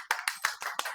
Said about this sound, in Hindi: इबाद अली साहब, तालियों में इस्तकबाल कीजिएगा।